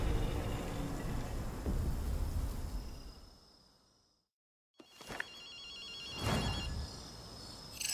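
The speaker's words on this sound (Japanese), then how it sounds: "アキト、電話の音が聞こえないか。" Telephone ringing in Ghostwire: Tokyo. A loud ambient drone fades to silence, then the trilling bell sounds in short bursts, clear and close.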